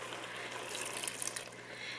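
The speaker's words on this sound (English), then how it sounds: "So what we do now is we'll add our water" Water poured into a pot of cooking Saskatoon berries for jam: a steady, close splashing trickle with small clinks, quiet and uninterrupted for about two seconds.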